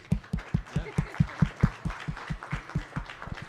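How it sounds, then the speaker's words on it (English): An audience at a school district's State of the Schools presentation claps in a steady, rhythmic beat, with sharp regular thumps close by and no talking. "we can give her a round of applause"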